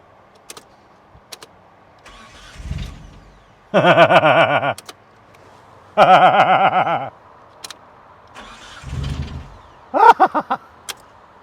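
Engine of the KNIGHT 4000 car cranking and briefly firing after being fuelled, rough harmonic bursts at about 4, 6 and 10 seconds separated by starter whirs, with faint clicks between, close and fairly loud.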